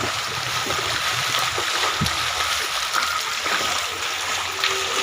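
Floodwater rushing through streets in Upleta after three to four inches of rain in an hour. A loud, continuous splashing flow fills the scene with occasional louder splatters.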